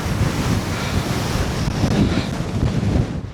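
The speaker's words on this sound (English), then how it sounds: "Oh, it's windy, you know." Strong night wind buffets the open ground of an old hill fort in Northumberland, a loud, gusting rumble with heavy microphone wind noise that rises and falls throughout.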